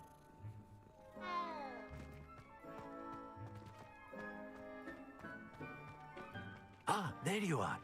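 A cat meows in the Hogwarts Legacy video game, with one drawn-out meow early on and a louder pair of meows near the end, all over steady game music and background sound.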